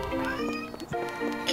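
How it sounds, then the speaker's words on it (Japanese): A cat meows in a GTA5 sniper deathmatch game, a drawn-out, harmonic call rising and falling, followed by a second, shorter meow, loud and close with game sounds underneath. "テストロンに反応してニャオーン"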